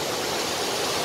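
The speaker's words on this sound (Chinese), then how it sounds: "就是要录这个瀑布" Qinglong Falls at Shanlinxi pours down in a continuous, loud, even roar of rushing water, with a dense wash of sound and no talking.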